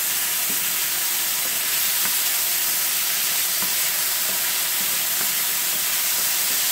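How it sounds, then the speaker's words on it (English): Blackened chicken and vegetables stir-fry in a hot pan, a continuous bright sizzle with soft periodic scrapes and tosses as the food is mixed, close and steady with no talking. "now we're going to go ahead and mix it together. I'm kind of doing like a stir fry style."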